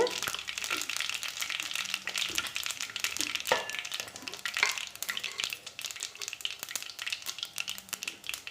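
Fennel seeds sizzling and crackling in hot oil, a busy close frying hiss with occasional stirring scrapes from a pan.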